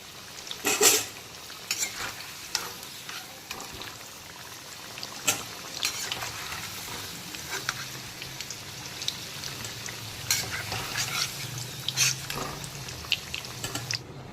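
Elephant foot yam pieces deep frying in mustard oil over a full flame, a steady crackling sizzle with sharper spatters and scraping stirs, close and fairly quiet with no talk.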